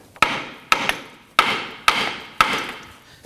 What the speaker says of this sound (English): I'm going to use our little chisel here. And we just want to open this up a little bit